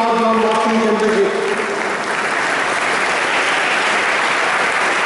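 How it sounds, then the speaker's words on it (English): Huge round of applause at a school felicitation ceremony for a student's silver medal in a boxing championship, loud sustained crowd clapping throughout, with a brief voice at the very start before the clapping takes over. "with a huge round of applause"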